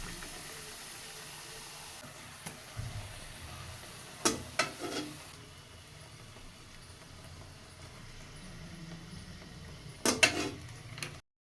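Luchi frying in hot oil, a faint steady bubbling hiss with a few brief clatters and knocks of utensils scattered through, quiet and close, with no one talking.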